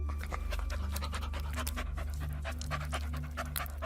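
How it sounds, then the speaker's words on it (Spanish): A dog panting hard and steadily as if thirsty, rapid rhythmic breaths running throughout, close and fairly loud, with a constant low hum beneath and no voices. "Parecía ser un perro que tenía sed."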